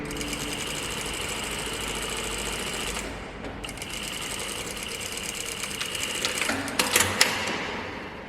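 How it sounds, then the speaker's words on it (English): A sewing machine stitches a back tack on elastic-waistband pants, a steady fast mechanical whirr with a short pause partway through, then resuming with a few louder clunks near the end. "Do another back tack stitch."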